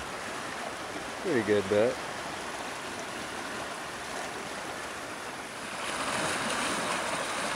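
High water on Oak Creek rushes in a steady, broad roar as it pushes against the bottom of an overhanging tree. The surge grows louder toward the end, and someone speaks briefly over it.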